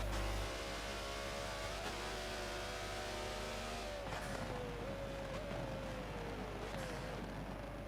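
Race cars in Forza sweep through the Laguna Seca corkscrew, with a steady mid-pitched engine drone whose revs climb and dip through gear changes, close and continuous for the whole stretch.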